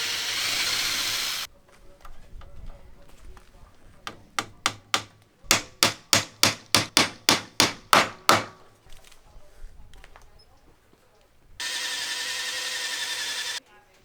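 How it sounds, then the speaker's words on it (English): Wooden dowels are hammered into the joints of a kitchen frame: about a dozen sharp, evenly spaced knocks come in a quickening series, close and loud. Stretches of steady broadband noise open and close the passage. "The next step I'm gonna take is to install dowels, not glue them yet"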